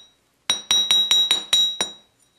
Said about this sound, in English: we're going to add a little hammered texture effect